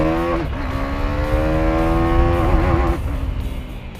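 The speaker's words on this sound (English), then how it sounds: "What KTM has done on the 2017 Duke 390, it has refined it. It sounds much smoother than before." A 2017 KTM Duke 390 single-cylinder engine revs up and holds high, smooth and loud up close, then drops back toward idle.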